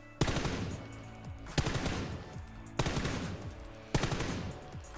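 Four bursts of automatic rifle spray fire in PUBG, loud and close, each a rapid rattling stream of shots lasting about a second, separated by brief pauses.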